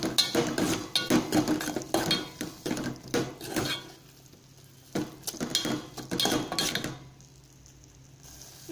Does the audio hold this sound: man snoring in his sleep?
no